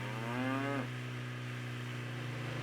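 One cow moos once, short and rising, in the video game Nancy Drew: Trail of the Twister, heard faintly over a constant low background drone with no voices.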